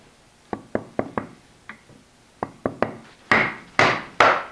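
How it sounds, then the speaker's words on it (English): A chisel is driven with sharp wooden knocks to pop a turned chestnut root burl plate off its glue block: eleven or so crisp raps in uneven clusters, the last few louder and ringing, with no voices. "we're just going to knock this off with a chisel, get right in the glue line"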